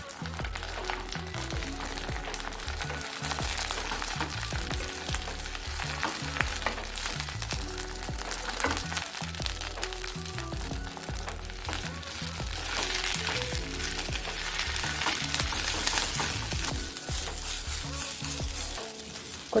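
Dried mint and coriander leaves fry in hot oil for a pickle, giving a steady, close sizzle with scraping and clinking as a spoon stirs them through the pan, continuous and moderately quiet.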